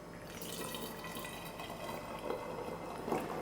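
Kombucha liquid pours in a steady, close stream, a continuous watery splash and trickle with small gurgles near the end and no speech.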